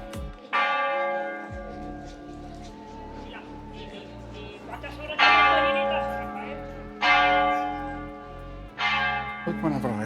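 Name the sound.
church bells ringing in Seville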